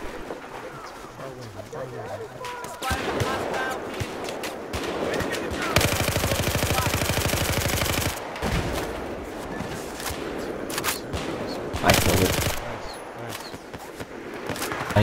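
Rapid automatic gunfire and explosions from the video game Battlefield 4 on a monastery map, loud sustained bursts with heavy barrages, under a player's talk.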